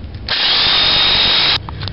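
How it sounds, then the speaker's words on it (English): A hammer drill bores a half-inch hole into concrete in one loud, close burst of about a second and a half. It starts and stops sharply, with no talking. "Drill a 1/2 inch hole in the concrete right here."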